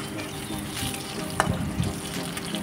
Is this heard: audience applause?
no